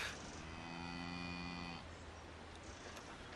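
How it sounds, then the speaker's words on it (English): A cow gives a single long, loud moo of nearly two seconds, close by in an outdoor rural setting, then fades into quiet background. "That cow's back."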